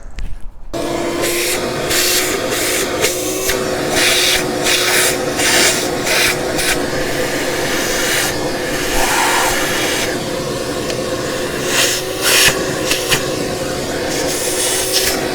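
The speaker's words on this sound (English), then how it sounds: "Let me grab the vacuum cleaner really quick" A shop vacuum cleaner pulls debris from around the cylinder holes of a 1971 MGB engine, a loud steady suction roar with scraping and rattling bursts as the nozzle works the openings.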